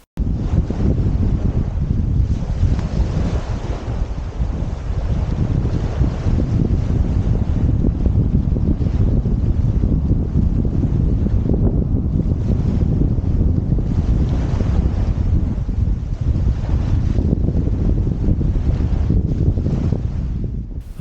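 Strong, steady wind roars across the microphone on a beach beside a power station on the Blackwater estuary at Bradwell, with faint wave wash beneath it, loud and continuous without a break.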